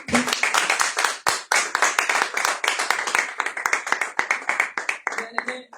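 A church congregation claps in a rapid, steady rhythm to acclaim the Lord, filling the room and close to the microphone, with voices mixed into the applause.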